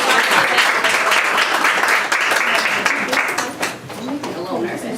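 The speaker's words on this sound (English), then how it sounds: "Let's give a round of applause for the pastors." A church audience applauds the pastors, a dense, steady wash of clapping that holds loud for several seconds and then tapers slightly toward the end.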